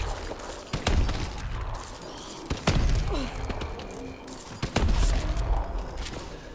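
Grenades exploding in a zombie video game at round 95, three or four dull booms at irregular intervals over a rumbling background, moderately loud.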